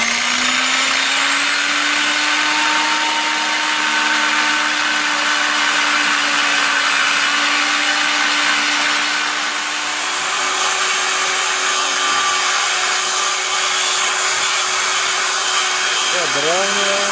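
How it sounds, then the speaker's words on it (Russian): A power saw cutting through an asbestos pipe, a loud sustained whining drone that holds steady and shifts slightly in pitch partway through, ending with a brief tonal wobble. "Потихонечку пилится труба."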